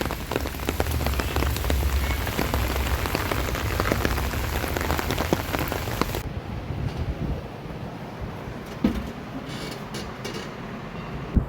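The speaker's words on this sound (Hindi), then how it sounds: "Wow, the sound of rain कितना अच्छा लग रहा है।" Heavy monsoon rain in Gurgaon pours down steadily as a dense, loud hiss of drops hitting surfaces, with some wind noise. Partway through it turns softer and more muffled, though the rainfall continues.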